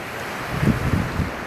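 Wind blows across the microphone by the sea shore while waves wash in softly, a steady breathy hiss with a couple of gentle surges rising and falling.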